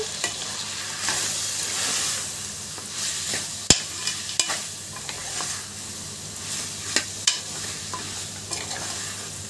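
Mutton for sanagapappu (chana dal) mutton fries with chilli powder under a constant close sizzle, while a spoon stirs with repeated scrapes and sharp knocks against the pan.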